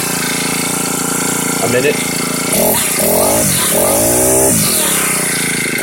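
Husqvarna 224L string trimmer engine buzzes loudly nearby and revs up in several rising bursts over its idle, with someone speaking briefly over it.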